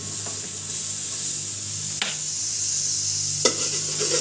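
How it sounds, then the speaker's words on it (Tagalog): Margarine sizzles steadily in a frying pan as it starts a sinigang sa miso with maya-maya fish, a constant hiss broken by a few soft clicks of the pan or utensil. "ang maglagay po tayo ng margarine sa kawali"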